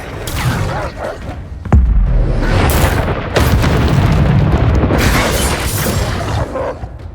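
The Confringo explosive spell in Hogwarts Legacy lets off loud, heavy booms and fiery bursts, several sharp blasts layered over dense, rumbling combat noise throughout.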